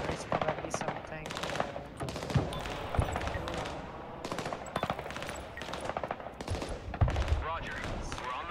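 Rapid bursts of machine gun fire crackle through a Broken Arrow 5v5 multiplayer battle. The gunfire comes in dense, repeated volleys mixed with scattered shots and impacts, with a faint voice underneath.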